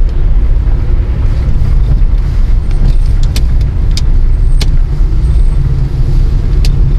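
Road traffic on a city street, cars passing close in a steady low rumble with wind buffeting the microphone and a few brief sharp clicks, no voices.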